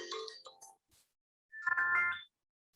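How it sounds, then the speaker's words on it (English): A mobile phone belonging to the speaker's wife rings with a short, bright melodic tone lasting under a second, following a brief patch of other sound and then silence. "That was my wife's phone."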